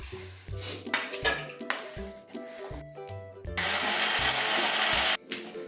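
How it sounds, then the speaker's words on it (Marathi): A kitchen mixer grinder powders a sambar masala spice mix. Several clunks and rattles of the jar come first, then one loud, harsh whirring burst lasts about a second and a half and cuts off abruptly. "याला आपण प्रॉपर आता मिक्सरमध्ये फिरवून घेऊ व्यवस्थित आणि याचं आता आपण पावडर करू"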